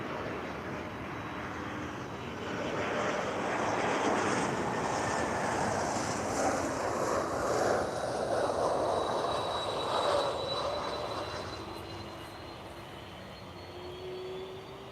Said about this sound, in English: we have an Express Embraer that is landing now